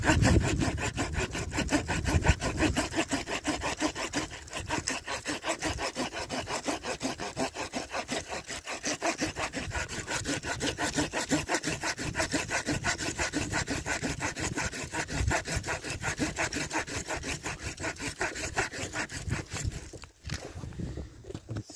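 A hand saw cuts through a branch of a grafted crabapple tree. Fast, even back-and-forth strokes rasp loudly and continuously, close up, until a brief pause near the end.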